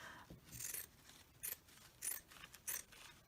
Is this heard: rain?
no